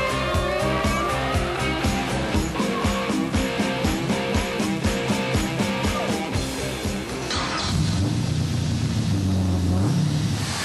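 Heavily modified 1970 Corvette Stingray C3 widebody with a 6.2-liter V8 making 600 horsepower, running loud and up close with rapid revving pulses that shift into a sustained roaring drive, with no talk over it.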